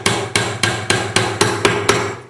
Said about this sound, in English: Get your hammer, and tap things in